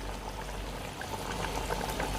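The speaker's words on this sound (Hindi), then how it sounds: "चिकन के ऊपर हो पानी, इतना ही डालना है" Water poured steadily over chicken in a pot while chicken biryani is being made, a soft continuous splashing stream with no talk over it.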